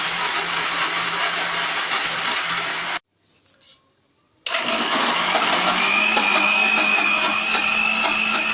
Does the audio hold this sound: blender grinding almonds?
yes